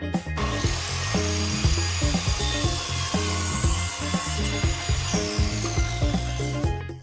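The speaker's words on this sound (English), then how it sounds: "Cut your board to the right size." A power saw cuts through wood, with a steady whine and repeated rasping strokes, loud and close throughout.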